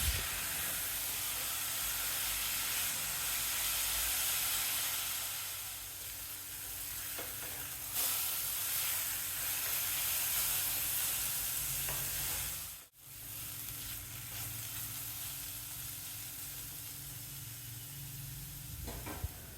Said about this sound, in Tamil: இந்த நெய்யில் பீட்ரூட்டை சேர்த்துட்டு பீட்ரூட்டோட பச்சை வாசனை போகிற வரைக்கும் ஒரு 3-4 நிமிஷத்துக்கு அடுப்பை லோ ஃப்ளேமில் வச்சுட்டு வதக்கணும்